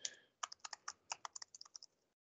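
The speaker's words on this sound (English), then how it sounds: "All right, so I'm just gonna type this in." A paragraph is typed on a computer keyboard in a quick run of about a dozen crisp, close key clicks that stop after two seconds, with no talking.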